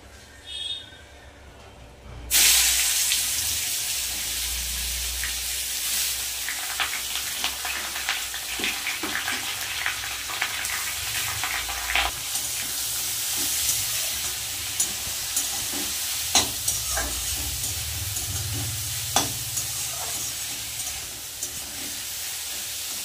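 Continuous sizzling and crackling of grated raw papaya in a hot pan after a sudden start, with occasional stirring scrapes and clicks; no talking.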